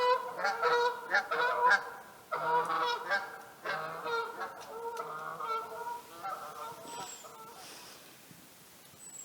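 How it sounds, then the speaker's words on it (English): Geese honking early in the morning at a campsite, a loud chorus of overlapping nasal calls, dense at first and thinning out as the birds move off. "What were the geese doing?"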